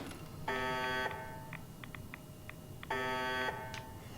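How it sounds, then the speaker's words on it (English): Electronic alarm at a reactor site near a nuke crater in Fallout 4, sounding two long buzzing tones about two seconds apart with faint short beeps between them, steady and moderately quiet. "low beeping noises, that's usually a bad sign"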